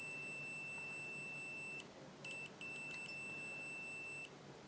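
A pocket multimeter gives a high-pitched, faint continuity beep, quieter than the others in the comparison, sounding steadily with brief dropouts as the probes lose and regain contact, alone in a quiet room.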